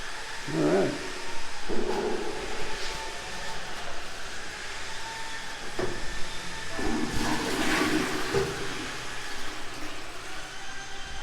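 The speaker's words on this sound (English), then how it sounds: "Water flushes." A newly installed toilet in an upstairs media room of a house under construction in the Philippines flushes with a rushing, gurgling surge of water, a couple of louder swells over a steady wash, heard up close.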